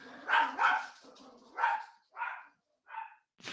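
Dogs bark in a run of about six sharp, separate yaps with short pauses between them, fairly close and clear.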